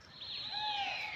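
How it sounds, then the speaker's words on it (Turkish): Flying pigeons at a pigeon-flying contest in Birecik, Şanlıurfa, give a clear, sweeping high whistle that glides slowly downward and stays fairly loud through a brief moment, with soft background noise. "Kuşlar geliyor selam veriyor tekrardan gidiyor."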